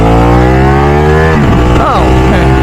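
A Ducati motorcycle engine, a 1199 Superleggera, revs loud and close, holding a steady roar before dropping and blipping up again in quick throttle pulses.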